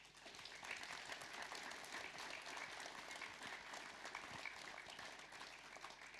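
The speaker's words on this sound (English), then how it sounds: "Can we give our panelists a clap" Continuous audience applause for the panelists at a business talk on dyslexic thinking, a dense, steady wash of many hands clapping at moderate volume throughout.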